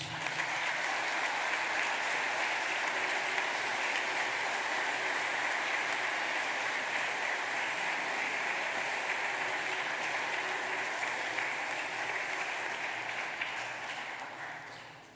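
A church congregation gives sustained applause during a Palm Sunday evening service, a dense, rain-like patter of many hands that stays level for about fourteen seconds before tapering off.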